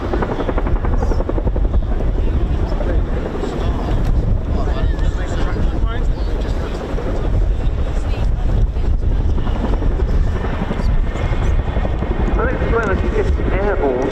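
An RAF Chinook helicopter hot-taxis along the runway at the RIAT airshow at RAF Fairford, its loud, continuous rotor thrum and engine roar filling the clip with a steady beating texture, with a commentator's voice faintly underneath.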